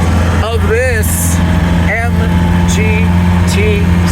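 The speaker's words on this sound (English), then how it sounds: "Just hear the engine." A vintage MG TC roadster's engine idles with a steady low rumble throughout while someone talks excitedly over it, close by.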